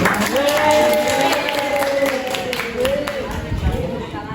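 Classmates in a school social studies lesson give a round of applause, with a cluttered mix of clapping and crowd noise under a voice speaking over it throughout.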